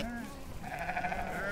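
Sheep bleat in a vineyard with a steady outdoor background, one drawn-out call rising clearly at mid-distance.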